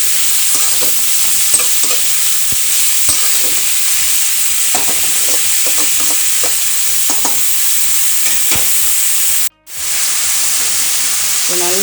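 Chopped eggplant stir-frying in hot oil gives off a steady, loud sizzle, with repeated scraping stirs and clacks of a utensil against the pan and a short break near the end.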